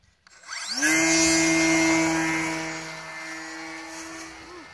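A Blitz RC Sorceress model plane's electric motor spools up into a loud, steady high-pitched whine for a vertical takeoff, then slowly fades a little while holding its tone, with no talking.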